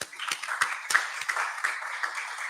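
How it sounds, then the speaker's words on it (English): A small audience at a presentation claps briefly, a handful of distinct, somewhat scattered claps over a thin background with faint voices. "I need to clap those two people"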